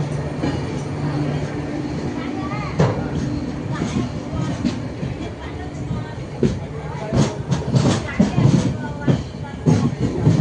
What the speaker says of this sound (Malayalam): അടുത്തുകൂടെ ഒരു ട്രെയിൻ പോണത് ശ്രദ്ധിച്ചപ്പോഴാണ് മംഗള ലക്ഷദ്വീപ് പതുക്കെ സ്റ്റേഷനിലോട്ട് വരുന്നത്.